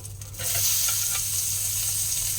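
Onions drop into hot oil in a pan and burst into a loud, steady hiss of frying after a brief quieter moment, sizzling close and continuous with no talking, for a Nigerian dish.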